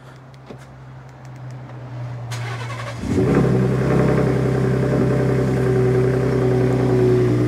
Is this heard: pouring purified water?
no